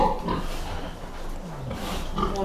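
Pigs on a farm grunt and oink in short bursts at moderate distance, with a low background murmur of the barn between the calls.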